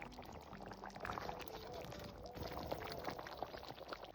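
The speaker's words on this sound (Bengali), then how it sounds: "ঝোলটা টকবক করে ফুটছে" A snakehead fish curry broth bubbles in a pot, a faint, soft simmering gurgle that continues steadily, with quiet background noise.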